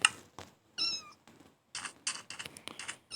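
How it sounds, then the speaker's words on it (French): Several short meows from a cat in Minecraft, coming in irregular bursts, some high and tonal, with quiet knocks and gaps between them and no talk. "On va aller apprivoiser un petit chat."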